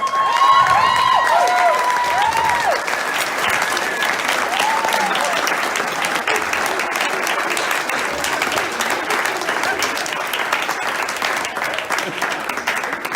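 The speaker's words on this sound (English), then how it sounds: "Can everybody please stand up and give Dr. Mangano a round of applause?" Audience applause at a medical residency graduation ceremony, a sustained wash of many hands clapping in a large room for about thirteen seconds, with a few whoops and voices mixed in early on.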